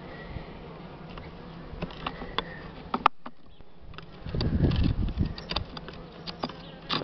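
Honey bees buzz steadily around an open hive while frames of wax foundation are worked in to expand the brood nest, a dense close hum broken by clicks and knocks of handling. The buzzing swells louder midway.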